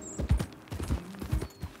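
Horse hooves clip-clopping at a slow walk in Red Dead Redemption 2, a steady rhythm of soft, close thuds on the ground, fairly quiet and with no voices.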